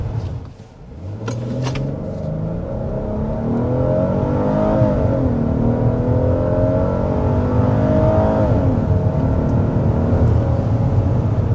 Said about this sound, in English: start with a hard acceleration to show you what this all-new V6 powertrain is about